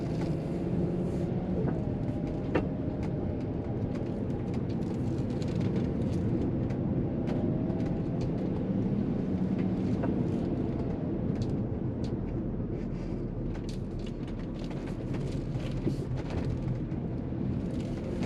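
A 1997 VW Eurovan camper rolls along in a steady, continuous low road rumble, with small rattles and jiggling items clattering from the back throughout.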